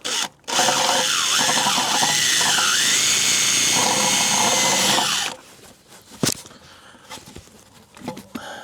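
A high-pitched power drill whines steadily into plastic on a Mercedes SL R230 for about five seconds, then stops, followed by a few light clicks and handling noises.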